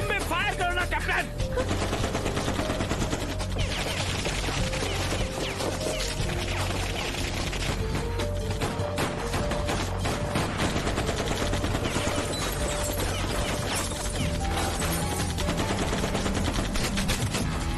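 Dense, continuous gunfire and machine-gun bursts in a Hindi-dubbed Pablo Escobar drug mafia TV drama, loud and rapid throughout, with voices shouting over the shots.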